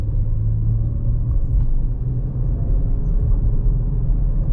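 A 2018 Ford Explorer 4x4 XLT accelerates, heard from inside as a steady, loud low rumble of engine and road noise with no talking.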